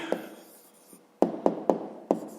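A math answer for a fifth-grade exercise being written by hand. After a quiet stretch with one faint stroke, there is a close run of four crisp pen or pencil taps and strokes on paper, with no speech.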